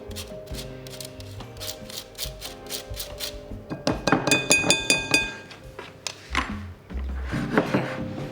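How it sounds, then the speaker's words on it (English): A metal spoon clinks and scrapes in a bowl, breaking up lumps of cocoa powder, with bright tapping strikes growing louder and denser midway before easing off, close and clear with no talk. "I'm just going to grab my spoon and get some of the lumps out of the cocoa."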